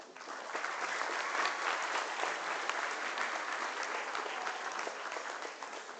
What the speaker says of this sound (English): May I now request everyone to join us in giving them a warm round of applause.